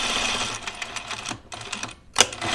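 A sewing machine stitches a coat collar onto the neckline seam, running in steady bursts of rapid mechanical whirring with a short pause near the end before a final quick run.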